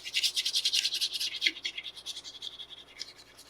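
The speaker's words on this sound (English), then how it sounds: "I even like to go right over the corners, kind of heavy when burnishing." A curly maple gun stock gets its corners burnished under heavy pressure: rapid rhythmic rubbing strokes, close and fairly loud, slowing and fading slightly toward the end.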